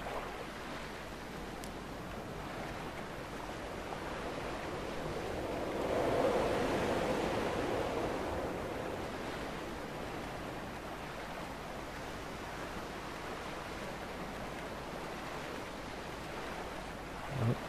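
Water waves washing onto the shore in the game Dear Esther, a soft continuous surf hiss that swells gently in the middle then recedes, distant and quiet.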